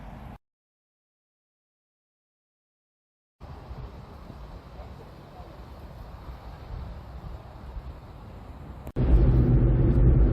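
A 2015 Volkswagen Up! 1.0 MPi Rock Up drives along a road, heard as a steady low interior rumble of engine and road noise that grows louder near the end after a brief silence at the start.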